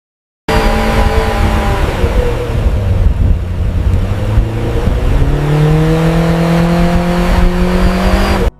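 An AI-generated car from a Veo 3 video speeds past, engine revving loudly with rising and falling pitch and tires squealing, the sound starting abruptly after a short silence and staying close and continuous.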